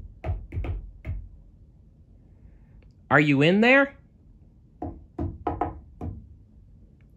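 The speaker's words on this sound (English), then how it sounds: "She knocked on the door." Knocks on a ballroom door, a quick group of raps near the start and another burst of knocking after a spoken question, close and crisp, with a voice calling out between them.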